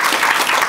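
Steady, loud audience applause at a national hackathon valedictory ceremony at a university, a dense wash of many hands clapping continuously with no pauses.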